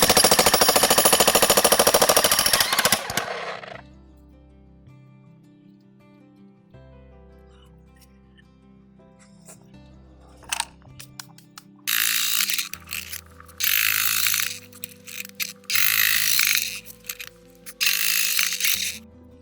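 A heavy demolition hammer drills into concrete, starting loud and dense, then stopping, then running again in several long, strong bursts separated by short pauses.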